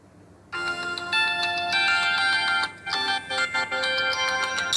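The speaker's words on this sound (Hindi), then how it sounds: "इस फ़ोन का जो स्पीकर है वो भी मैं आपको चेक करवा देता हूँ।" A Tecno Camon 18P phone plays a ringtone through its built-in speaker, a bright, loud melodic tune of repeating notes that starts abruptly and pulses with brief dips, heard alone.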